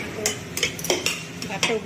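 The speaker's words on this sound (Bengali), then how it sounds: "আলুটা আমি হালকা ভেজে নেবো, তাহলে টেস্টটা ভালো আসবে।" Potatoes being lightly fried in a pan for biryani are stirred with a metal utensil, giving repeated close scraping clinks over a faint background sizzle, with no voices.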